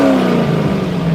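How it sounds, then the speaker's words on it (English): A 22-year-old car with its stock exhaust revs steadily, a loud, continuous engine drone that climbs slightly in pitch over about a second, close and alone. "for a 22-year-old car, and that's a stock exhaust, it sounds pretty good"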